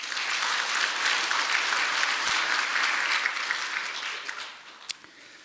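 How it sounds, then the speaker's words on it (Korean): Audience applause at a talk concert, a loud, dense burst of many hands clapping that holds strongly and then tapers off near the end. "박수 한번 쳐드리세요"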